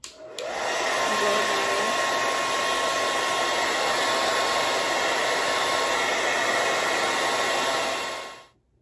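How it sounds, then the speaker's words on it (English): A hair dryer on its cool setting blows steadily for about eight seconds, a loud, even airy whoosh with a faint whine, starting abruptly and cutting off at the end. "So usually I'll take my blow dryer on cool."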